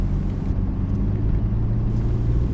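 A Ford Ranger engine holds a steady low rumble at about 1500 RPM while driving through sand, continuous and fairly loud with no talk.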